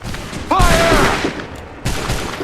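Musket volley fired on command in the video game Assassin's Creed III: a loud, near crackling burst of many shots, then a second volley about a second later, with a shouted voice under the first.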